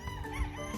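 Farm chickens, Golden Boy crosses in netted pens, clucking and calling in a short, dense burst with a rough background of flock noise, close by.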